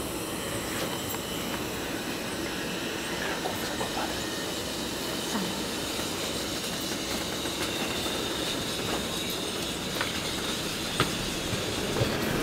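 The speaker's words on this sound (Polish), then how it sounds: "Pociąg TLK Moncie, Kropówki, relacji Gdynia Główna, Zakopane." A TLK passenger train on the Gdynia Główna to Zakopane route rolls steadily along the rails, a continuous loud rumble with faint rhythmic clatter throughout and no voices.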